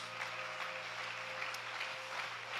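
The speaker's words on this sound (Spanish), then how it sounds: "denle un fuerte aplauso al Señor Jesucristo" Faint, steady applause from a church congregation heard at a distance, a continuous wash of clapping over a low electrical hum.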